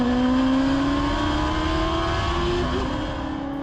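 A 2021 Rush SR race car's high-revving four-cylinder engine screams near the top of sixth gear, a loud, steady, piercing drone from onboard with pitch slowly climbing, no talking.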